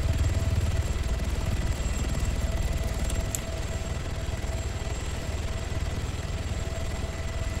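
Helicopter in a video game, a loud continuous rotor and engine drone with steady hum, close and unbroken throughout, no talking over it.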